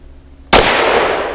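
A single sharp, very loud gunshot from a Kimber R7 Mako Carbon Compact pistol, a hard crack followed by a long ringing echo with no talking.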